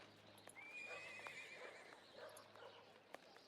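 A horse whinnies in a long wavering call over soft clip-clopping hooves in a Sherlock Holmes video game street scene, fairly quiet and without talk.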